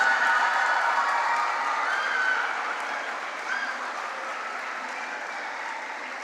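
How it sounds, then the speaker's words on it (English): A big round of applause from the audience at a school function, sustained clapping with a few cheers and whoops, loud at first and easing slightly toward the end. "Please put your hands together for a big round of applause."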